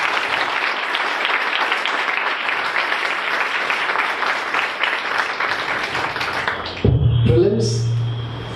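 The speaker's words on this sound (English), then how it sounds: "Can I have a round of applause for just this one?" An audience breaks into dense, sustained applause that fills the room, then cuts off abruptly, leaving a quieter room with faint murmurs.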